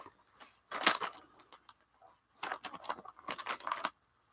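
Paper being colored to look like old parchment gives bursts of close, scratchy strokes, one cluster early and a longer busy run later, with quiet gaps between.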